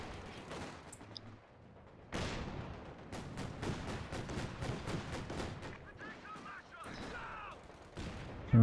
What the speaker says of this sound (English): decent grenade